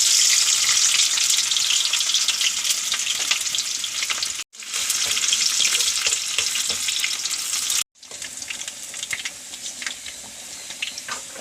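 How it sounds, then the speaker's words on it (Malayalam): Onions fry in hot oil in a clay pot, a loud, close, continuous sizzle and crackle broken by two brief pauses, with no talking. "അപ്പം എണ്ണ കാഞ്ഞു. അത് ഉള്ളി ഇടണം."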